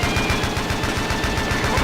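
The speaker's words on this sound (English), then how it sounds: "since the gunfire is basically drowning out the radio" Constant rapid automatic gunfire from the Battlefield video game rattles on without a break at steady volume, a dense mass of overlapping bursts with no talk.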